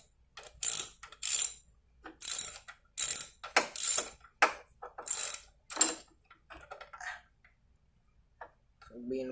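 Ratchet tightening bolts on a Briggs & Stratton 7 hp carburetor, heard as repeated bursts of bright clicking in short runs, fairly close, with pauses between strokes and a faint voice near the end.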